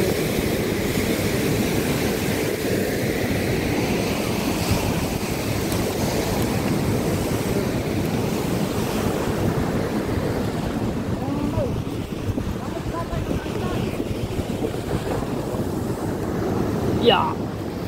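Ocean waves wash steadily onto a beach, a continuous broad roar of surf with wind buffeting the microphone throughout, close and loud, with faint voices now and then beneath the water noise.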